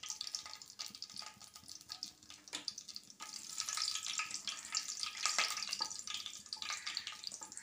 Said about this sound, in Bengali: আমার তেলটা গরম হয়ে গেছে, একটা তেজপাতা দিলাম, গোটা গরম মশলা দিচ্ছি